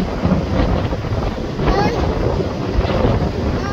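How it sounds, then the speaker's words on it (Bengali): A ferry boat departs in strong wind, its engine rumble mixed with steady wind roar and splashing water, all heard close and continuous. "Bye bye boat."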